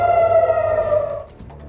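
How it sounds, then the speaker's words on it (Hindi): Wailing air raid siren in Tel Aviv, a single loud sustained tone gliding slowly downward before fading away after about a second, with no talking. "तेल अवीव ने लगातार बज रहे हैं सायरन"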